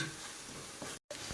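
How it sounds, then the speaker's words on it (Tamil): Spice powder sautéing in a hot pan while cooking mutton curry, a steady close sizzle with stirring, broken by a sudden short gap of silence before the sizzling resumes. "நம்ம இதை நல்லா மிக்ஸ் ஆகி நம்ம வதக்கணும்"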